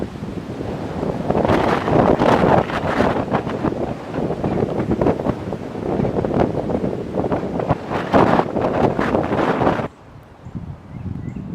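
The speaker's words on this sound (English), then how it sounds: "it's that windy" Strong wind buffets the microphone in loud, roaring gusts for several seconds, then drops suddenly to a quieter rustle.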